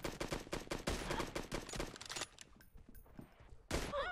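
Gunfire in PUBG Mobile, a rapid burst of loud automatic shots for about two seconds, then a quieter pause with faint clinks and a final loud shot near the end.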